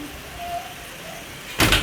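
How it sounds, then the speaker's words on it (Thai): A bedroom door in a three-bedroom holiday house is pushed shut, landing as one brief, solid thud at the end after a stretch of quiet room hum, with no talking. "มาปิดประตูก่อนจ้า"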